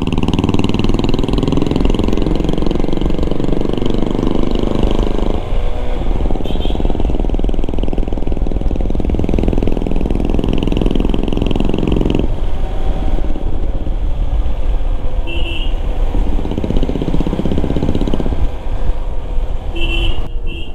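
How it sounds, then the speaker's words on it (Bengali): Royal Enfield Bullet 350 motorcycle engine running steadily and close, a loud continuous low rumble with road and wind noise throughout, heard during a long ride between Dal Lake and Sonamarg. "oh my God, royal Enfield bullet"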